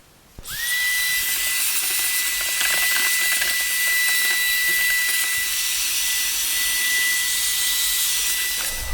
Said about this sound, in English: I've got to vacuum that out